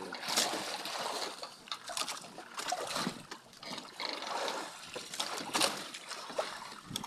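Rough sea water splashes and sloshes against a fishing boat while a net is hauled in, irregular close splashes with a voice talking intermittently over them.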